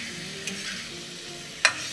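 Ripe red tomatoes stirred as they fry in a pan for a sweet-sour tomato khatta, giving a faint steady sizzle with two brief scraping clinks of the spoon, near and alone.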